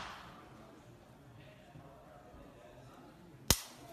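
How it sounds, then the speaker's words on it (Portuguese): A single sharp dry-fire click of a pistol at a shooting range, heard once near the end after a quiet stretch of faint room noise. "um disparo seco"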